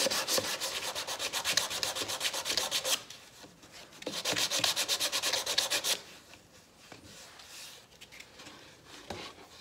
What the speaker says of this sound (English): hence a little bit more sanding on this piece of wood